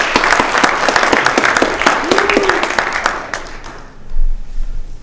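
An auditorium audience claps to welcome a speaker at a science lecture, a dense, loud burst of applause that fades out near the end as a voice begins.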